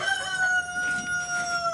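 A rooster crows once in a long, drawn-out call, clear and fairly close, with no talking over it.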